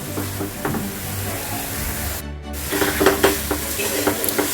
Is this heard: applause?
no